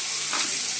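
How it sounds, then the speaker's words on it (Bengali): Onions sizzle in hot oil in a pan, a brief, even, bright frying hiss at close range with no voices. "পেঁয়াজগুলো দিয়ে দিচ্ছি।"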